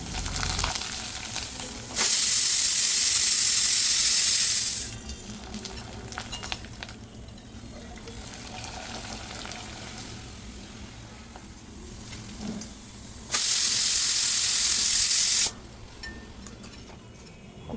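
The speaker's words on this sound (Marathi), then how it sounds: "कुकरची वाफ गेलेली आहे।" A pressure cooker cooking moong dal khichdi lets off steam in two loud, sustained hissing bursts of about three and two seconds, separated by a quieter stretch of low kitchen background noise.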